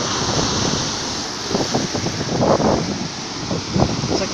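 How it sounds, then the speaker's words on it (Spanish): Sea waves wash against the shore where shells are being gathered, rolling and breaking in uneven surges under steady wind buffeting the microphone. "aquí estamos a las orillas del mar"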